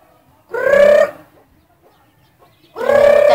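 Two loud, close calls from a hen with chicks in the Philippines, each about half a second long with a drawn-out tonal cluck, separated by a quiet gap of under two seconds.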